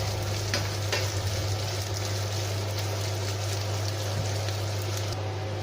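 Chorizo fries in a pan for pasta, giving a continuous crackling sizzle with occasional sharper pops over a steady low hum.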